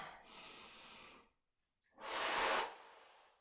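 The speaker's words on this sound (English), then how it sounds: "Inhale up. Exhale down." Heavy breathing during a Pilates march exercise: a long inhaled breath, a short pause, then a louder, forceful exhale, close and clear with no talking.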